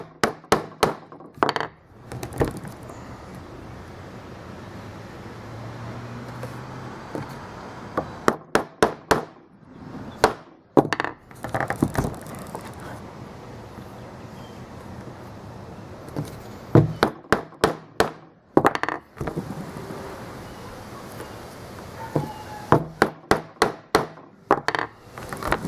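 Wooden hammer striking a hole punch through banding, sharp loud knocks in quick clusters of three to six blows separated by quieter pauses, close up with a low background hum.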